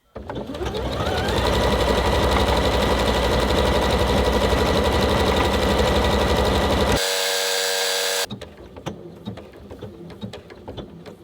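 A Janome Atelier 6 sewing machine stitches at a fast, steady, close rattle for about seven seconds, then gives a sustained electronic beep and falls quiet apart from light handling noises.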